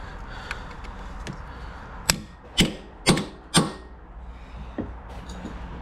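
A socket wrench works at a rusted bolt on a Yanmar ViO35 excavator, giving four sharp, close mechanical clicks in quick succession against a quiet background, with no talking.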